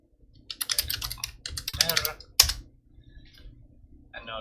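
Someone types on a computer keyboard, producing quick, close clusters of keystroke clicks in two short bursts with brief pauses between them.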